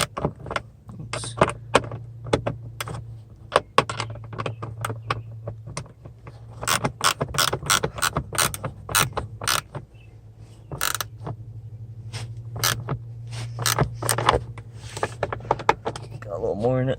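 A bolt being tightened on a car's rear seat mount: irregular clicks, ratchet-like ticks and metallic rattles, close and fairly quiet, over a steady low hum.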